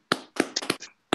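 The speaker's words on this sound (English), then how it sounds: "Feel free to unmute and clap if you would like." A few hand claps from an online audience after a talk, heard as about five or six sharp, close, separate claps in an uneven burst, with short silent gaps between them.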